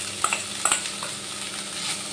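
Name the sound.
drained chhana cooking in a kadai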